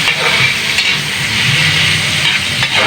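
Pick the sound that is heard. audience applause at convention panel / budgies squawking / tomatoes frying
tomatoes frying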